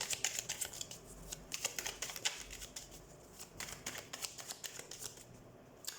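Tarot cards being shuffled, with a steady run of crisp riffling flicks and soft slaps close up, alone and without talk.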